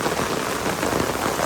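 Heavy rain pours down steadily and close by, a dense unbroken hiss of drops drumming on surfaces with no voices over it.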